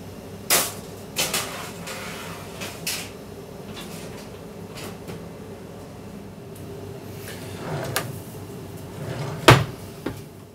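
A pizza pan going into an oven broiler makes a few sharp metallic knocks and clanks near the start and a louder clunk near the end, with quiet room noise between.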